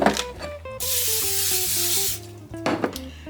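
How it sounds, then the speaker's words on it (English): A steady hissing spray of cooking oil onto a Ziploc bag lasting over a second, with soft clatter and tones in the background before and after. "take my handy Ziploc bag and spray that with some cooking oil"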